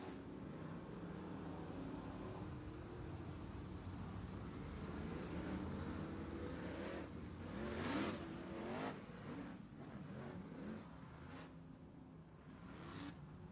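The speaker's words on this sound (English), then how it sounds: "Quickly, the field comes together behind the pace truck, and now the pace truck is moved away." Modified race cars idle and rumble together in a tight pack behind a pace truck at an oval track during the East Bay WinterNationals Modified Week, with a steady broad engine drone, a brief swell near the middle and open-air wind.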